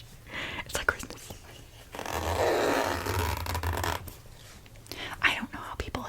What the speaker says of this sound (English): Sorry about the zipper sounding like a toot.